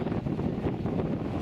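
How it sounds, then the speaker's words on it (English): Low buffeting rumble of wind hitting the microphone on a windy island in Cuba, continuous and fairly faint, with no voices. "I don't know if you'll be able to hear me with the wind noise"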